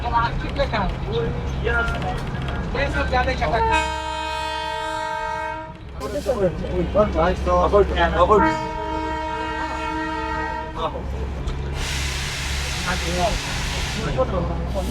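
The Darjeeling toy train rolls along on a mountain line, its horn blaring in two long blasts over steady running rumble, followed by a burst of hissing steam near the end.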